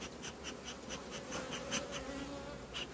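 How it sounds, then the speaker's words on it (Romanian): Honeybees buzz at a hive in an apiary where a red queen colony has just been split, a dense, continuous near drone with individual bees zipping past, agitated as the sun comes out, with no talking. "Albinele sunt un pic nervoase, fiindcă abia acum a dat soarele"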